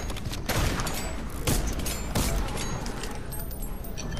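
A video game shotgun fires several slow, spaced blasts amid steady clattering battle noise and mechanical rattles, with no one talking.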